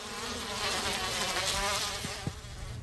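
A cluster of cartoon bees clinging to a girl's face like a beard, giving off a steady, dense insect buzz that holds level throughout, with a couple of faint low thumps near the end.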